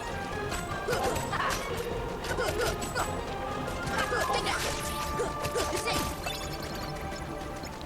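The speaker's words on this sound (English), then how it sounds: "Just smashing it Heartless here." Heartless enemies get smashed in the game Kingdom Hearts HD 1.5 ReMIX, where rapid whacks, crashes and whooshing swings pile up over constant game music. Hits land in quick bursts throughout, with a voice talking faintly underneath.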